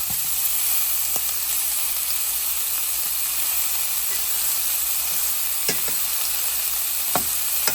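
Beef chunks searing in a hot pan for stew produce a loud, steady sizzle and hiss close up, with a few brief clatters of stirring and no talking.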